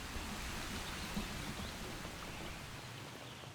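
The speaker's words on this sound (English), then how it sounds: "heavy rain," Heavy rain falls steadily in the Amazon rainforest as a dense, even wash of noise, faint and continuous, with no voices.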